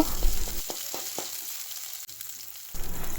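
Onion, ginger and garlic paste frying in hot oil for a home-cooked dish of dohi kosu (taro) with kawai fish: a steady, close, broadband sizzle with a few brief crackles, running alone without talk.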